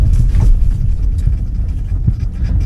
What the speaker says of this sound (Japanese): アクセルはベタ踏みしっぱなしです